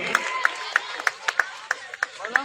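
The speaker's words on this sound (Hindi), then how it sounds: "जोरदार तालियों से स्वागत करेंगे उनका" Applause from an audience at a district-level school science competition greets a speaker: a run of sharp, evenly spaced claps sounds fairly close over a steady crowd murmur, with voices underneath.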